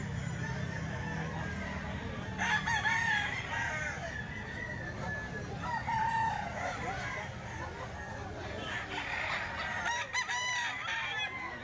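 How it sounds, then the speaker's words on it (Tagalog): Many chickens and roosters at a grotto after dark cluck continuously while several crows rise out of the flock at moderate distance, with faint talk in the background. "Ang daming manok kahit madilim."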